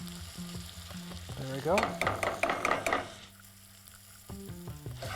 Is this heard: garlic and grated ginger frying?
yes